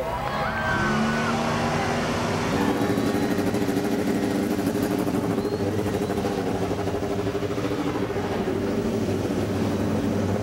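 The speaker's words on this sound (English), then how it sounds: "the engines have come to life" IndyCar race car engines start up together at Kentucky Speedway, a loud, dense roar that swells and then holds as a steady rumble across the whole stretch.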